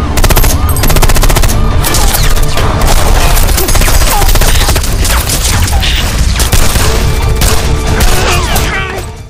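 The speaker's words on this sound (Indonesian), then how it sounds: "Akhirnya baku tembak pun terjadi antara polisi dan anak buah San di" Film gunfight between police and gangsters beneath a flyover, with dense, loud automatic gunfire and overlapping shots rattling continuously, thick with crashes and chaotic action noise throughout.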